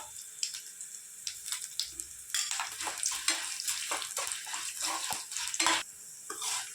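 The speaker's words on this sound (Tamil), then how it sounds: "பூண்டெல்லாம் கொஞ்சம் வதங்கணுங்க நல்லா வதங்கினாத்த வாசமாக இருக்கணுங்க" Garlic sautés in a pan for a lime rice dish, giving soft irregular sizzling and crackling bursts with stirring scrapes, close but fairly quiet and without speech.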